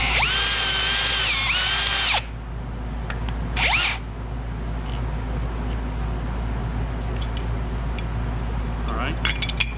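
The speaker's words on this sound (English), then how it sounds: "We're going to countersink these with the small 1024" A power drill countersinks holes in a metal astromech droid ankle part, with a loud whirring burst of about two seconds, then a shorter second burst, followed by quieter handling clicks.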